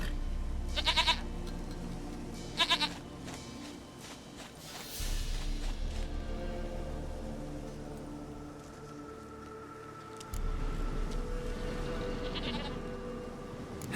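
Goat bleating in the video game Witcher 3, several distinct bleats spaced across the stretch over a low game ambience and music bed, fairly close and clear.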